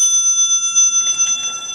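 A bicycle bell at a bicycle shop and hostel on the C&O Canal in Hancock, Maryland rings close and clear, its metallic tone sustaining and slowly decaying, with light rustling handling noise near the end.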